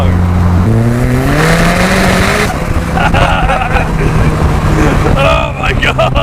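A turbocharged Mazda MX-5 fitted with a roll cage accelerates hard, its engine note climbing through the gears loud and close, with people talking over it throughout.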